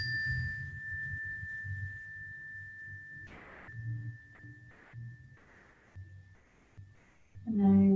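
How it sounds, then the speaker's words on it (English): A single bell rings with a clear, sustained tone that slowly fades away, heard during a quiet yoga session with faint background sounds. "focusing on this bell."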